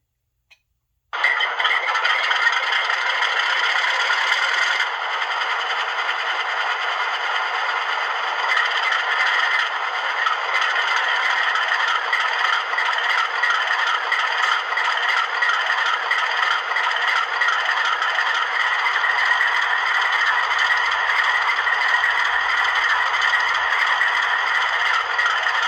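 A Bowser HO scale RS3 diesel locomotive in Burlington Northern 4081 livery, fitted with a LokSound V5 decoder, starts up after a click. It then plays a continuous, tinny diesel engine rumble and rattle from its small speaker, steady and close throughout.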